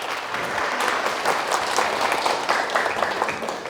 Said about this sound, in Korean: 질문해 주는데 큰 박수 한번 칠까요?